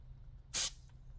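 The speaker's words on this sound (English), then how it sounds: "I have a spray-on grease, which is this guy here." A single short hissing burst from a can of spray-on grease during a brake pad replacement on a 2017 Nissan Sentra S, close and sharp, lasting a fraction of a second against quiet background.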